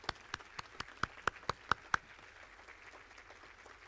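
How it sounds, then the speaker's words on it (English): Sparse, faint applause for students at a school recognition-of-excellence event, about ten separate claps in an uneven rhythm that then fade to quiet room tone. "Let's give a round of applause to all of the students."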